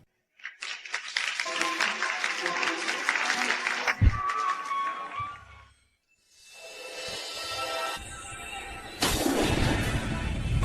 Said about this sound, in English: Next, let's give a round of applause to welcome the bride.